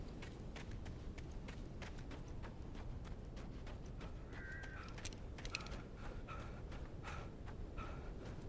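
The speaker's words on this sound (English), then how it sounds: "Birdie, birdie, birds." Crows caw in the video game Alan Wake, several harsh calls rising over a steady bed of footsteps and ambient noise, with no talking.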